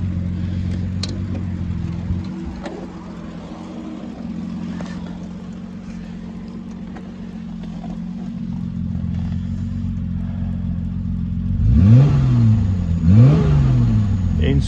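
Triumph GT6 inline-six engine with a stainless exhaust idles in a steady low drone, then revs sharply twice near the end, rising and falling in loud swoops.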